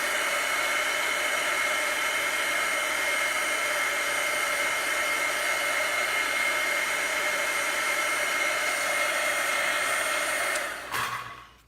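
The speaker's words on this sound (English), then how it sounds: "You can use a hair dryer to do this part." A hair dryer blows steadily at close range while drying berries on a galvanized tin craft piece, a loud, even whir that runs unbroken before switching off near the end.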